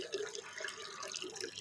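Water running from a pipe, a faint continuous trickling and splashing with small drip-like bursts, heard alone and fairly quiet.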